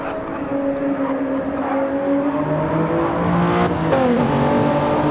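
Race cars accelerate at the start of lap 2 with a Ferrari leading, a loud, steady engine drone with rising and shifting tones as gears change, no voices heard.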